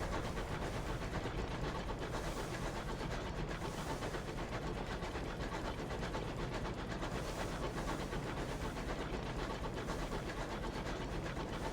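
Steady rumbling train noise with a continuous clattering, rolling texture from a locomotive in the Sunless Skies video game, loud and unbroken throughout with no voices.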